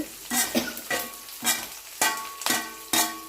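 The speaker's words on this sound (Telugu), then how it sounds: "ఇప్పుడు వామ కూడా వేసుకొని కలుపుకోవాలి" Ajwain is stirred into rice in a hot pan, with repeated scraping strokes of a spoon and short bursts of sizzle in an uneven rhythm, loud and close, with no talk.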